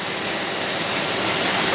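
A Jeep Liberty engine, newly installed and running on the cam signal with no crank signal, holds a steady broadband roar at constant loudness, close and unbroken, with no voices.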